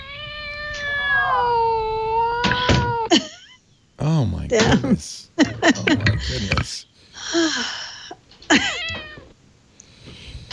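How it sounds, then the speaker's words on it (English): A cat meows loudly and insistently close by, with drawn-out wailing calls breaking into yowls, while people talk and exclaim over it. "The cat is a menace."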